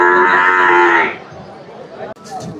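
A calf at a buffalo market moos loudly and close for about a second, a long sustained call, followed by quieter market chatter and a brief rustle.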